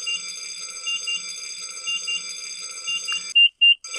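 A fire alarm in a firefighting training simulation rings as a steady, pulsing electronic tone, then cuts out and is followed by two short, sharp beeps; no one speaks.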